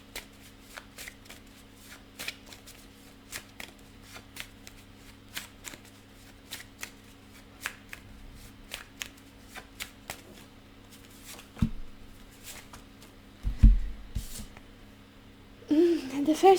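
A tarot deck is shuffled by hand in quiet, with soft repeated riffling and card flicks spread across the clip, close and faint, followed by a louder clatter and rustle near the end.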